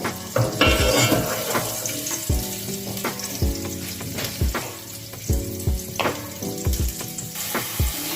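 Onions frying in oil in a pot for a meatless soup: a continuous close sizzle with occasional knocks of a utensil against the pan, heard alone without talk.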